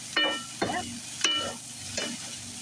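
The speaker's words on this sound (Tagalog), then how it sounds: "Ayan lang ang pagluto ng fried rice." Chicken fried rice with vegetables sizzles in a pan under four sharp, evenly spaced scraping stir strokes, close and distinct, with a steady frying hiss beneath and no talking.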